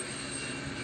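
A helicopter flying overhead produces a loud, steady engine roar that fills the whole moment without any break.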